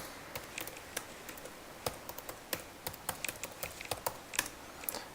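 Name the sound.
typing login details on a computer keyboard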